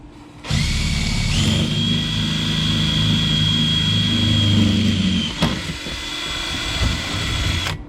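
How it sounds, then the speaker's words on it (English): A heavy-duty power drill whines loudly and steadily up close while drilling into a truck camper, pausing briefly before starting again, with no voices. "Here's my heavy duty drill."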